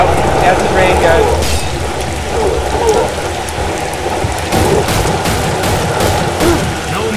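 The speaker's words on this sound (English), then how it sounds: "Oh, that's the rain, guys." Rain falling in the video game Warhammer Haunted Hell's Reach, a steady hiss of drops with bursts of gunfire and someone talking over it.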